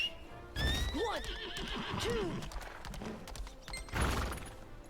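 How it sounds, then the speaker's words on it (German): A horse in the video game Lost Ark whinnies loudly in rising and falling calls, with clip-clop hoofbeats thudding underneath, close and prominent throughout. "Und dann hier kann ich mein Pferd wieder nutzen"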